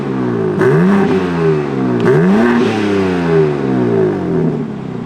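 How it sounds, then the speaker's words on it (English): A BMW G82 M4 with its stock exhaust revved twice in quick succession, each blip rising sharply then falling back to a steady, fairly quiet idle, heard up close. "we're gonna get some stock revs to see how quiet this thing is right now"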